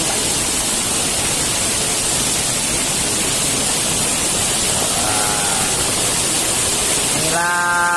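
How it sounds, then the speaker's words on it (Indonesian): Steady, loud broadband roar of the Ilop cave waterfall, a continuous dense rush of falling water; a faint tonal sound briefly rises through it near the end. "Inilah air terjun Goa Ilop."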